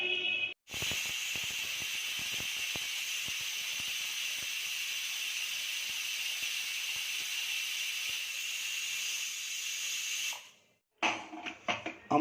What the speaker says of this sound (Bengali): আমাদের 4টে সিটি পড়েছে।